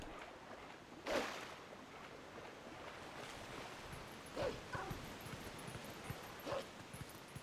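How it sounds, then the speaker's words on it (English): Dog whimpering and yelping in the video game Twilight Princess, a few short cries standing out over steady game ambience with a watery wash behind them. "You can't even pull yourself up, you stupid dog."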